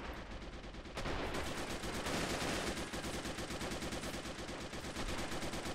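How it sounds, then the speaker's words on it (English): Machine gun fire in the war strategy game Men of War: Assault Squad 2, with 50 and 30 caliber guns opening up: dense, continuous rattling bursts, loud and steady throughout, with overlapping weapons. "I can just hear the 50 cal, the 30 cal just opening up."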